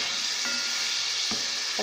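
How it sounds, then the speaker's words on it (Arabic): Food sizzles steadily in hot oil in a pan while being turned, a dense close crackling hiss with a few soft stirring knocks. "هفضل اقلب فيها كده في الزيت"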